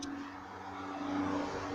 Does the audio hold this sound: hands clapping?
no